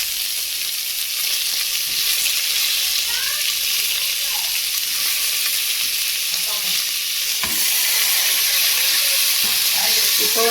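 Onions sauté in oil in a pan with a loud, steady sizzle and hiss throughout, broken by occasional stirring scrapes and clinks.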